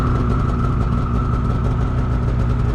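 A 2021 Polaris Matryx 850 two-stroke snowmobile engine idles steadily, a close, loud, even rumble with no talking over it.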